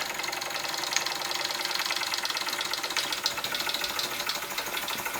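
American Jensen 65 model steam engine running steadily after oiling, a dense, continuous mechanical chuffing and rattling rhythm, close and fairly quiet, with no voices.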